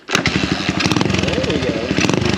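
A Honda XL175 dual-sport motorcycle engine catches and starts up nearby, its rapid single-cylinder putter beginning loud and settling into a steady rhythm.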